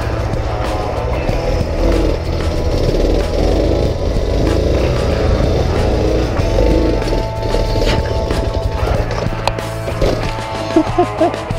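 A stock Suzuki DR650 dirt bike engine roars loud and close as the rider pulls a sit-down wheelie from a standstill, a sustained rough single-cylinder drone with rattling and thumps toward the end.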